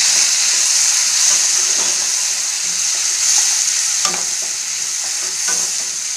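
Chopped tomatoes, added with a pinch of asafoetida, hiss and sizzle steadily in a hot pan while a spoon scrapes and stirs, for Andhra-style tomato dal.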